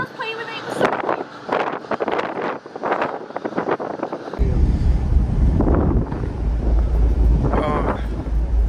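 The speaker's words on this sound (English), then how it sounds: "This rooftop is very windy" Strong wind buffets the microphone on the open rooftop deck of a ferry bound for Sardinia, a steady low roar that thickens midway, with people talking throughout.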